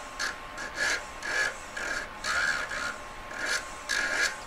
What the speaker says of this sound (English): Rubber wheeling the solder line away, gets it really sharp